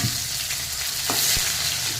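Chopped onion frying in oil with bay leaves and cumin, a dense hissing sizzle with a couple of brief knocks of a stirring spoon.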